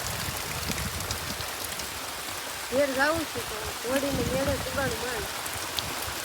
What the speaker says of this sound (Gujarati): આ વરસાદ બહુ સારો એવો છે